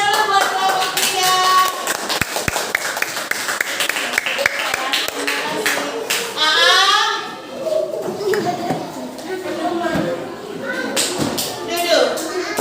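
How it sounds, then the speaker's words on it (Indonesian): Classroom applause for a student group during a teaching session, with hands clapping in a loose rhythm amid children's chatter and voices, plus a few sharp taps. "Tepuk tangan dulu buat kelompok 3."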